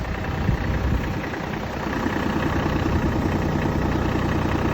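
A Massey Ferguson tractor engine idling outdoors, a steady low diesel rumble that holds a constant level throughout with no changes in revs.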